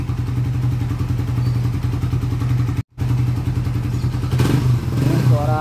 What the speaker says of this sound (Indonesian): udah boleh seutuhnya suara standar Suzuki Satria F injeksi